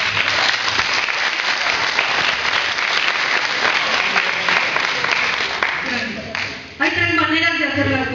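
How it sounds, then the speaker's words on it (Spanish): Audience applauding at a youth event after a high school teacher is introduced, steady dense clapping for about six seconds before it fades and a voice speaks. "Un aplauso."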